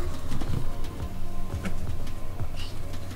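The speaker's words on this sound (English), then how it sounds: "Because there's a bird outside." A pigeon or dove cooing outside, soft repeated low coos at an even pace, heard faintly through a steady background hum.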